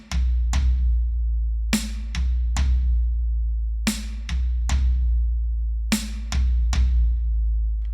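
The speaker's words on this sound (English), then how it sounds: "Beat 4, we then have our snare back on the beat 4, and then we're going to just play 2 right hands on the floor tom." A drum kit plays a repeating triplet figure: a snare hit followed by two right-hand strokes on the floor tom. The close, loud three-note groups repeat four times with booming tom decay.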